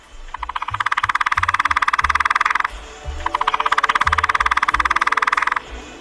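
Lewis's woodpecker drumming in two long, rapid, even rolls of taps, each lasting a couple of seconds with a short pause between, close and steady.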